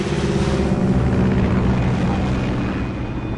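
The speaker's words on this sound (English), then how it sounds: "God damn, that plane is loud as shit, boy" Loud, continuous roar of an airplane in Metal Gear Solid Delta: Snake Eater, a dense broadband engine drone that stays close and steady throughout with no other sounds breaking through.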